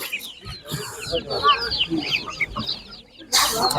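Several chickens cluck and squawk close by at an animal market, with people chatting quietly underneath and a burst of rustling noise at the end.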